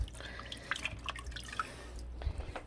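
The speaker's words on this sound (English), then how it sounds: "if you take it and clean it, rinse it out of sorts in that dirty water." A dirty filter being rinsed out in murky water gives a brief, quiet run of drips and small splashes, with no talking.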